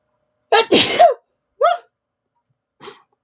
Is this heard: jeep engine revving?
no